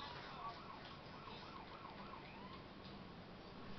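A police siren wails in the video game GTA San Andreas on PS2, a steady wavering tone heard continuously and fairly loud over the whole moment, with no one talking.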